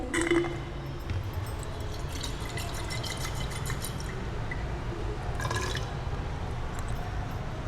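Solution is rinsed into a glass flask during a ferrous ammonium sulphate and permanganate titration, with faint trickling, dripping and splashing water up close over a steady background hiss.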